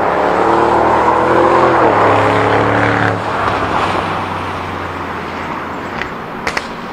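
A 730 bhp Audi RS6 drives past, its engine note loud and close, then falling away, with no talking.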